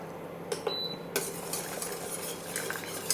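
Thickened teriyaki sauce stirred in a pan for chicken wings, giving soft, close scraping and sticky stirring with a faint sizzle and a few light utensil clicks on the pan, no talking.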